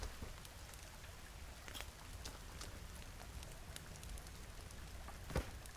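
Rain falls in the survival video game The Forest, a faint, steady patter of drops with light scattered taps and one brief louder knock near the end.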